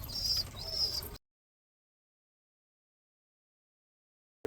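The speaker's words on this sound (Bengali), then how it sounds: "চলো দেখে আসি পায়রাগুলো কি করছে" Pigeons cooing nearby, two soft, rounded coos in quick succession, followed by a long silence.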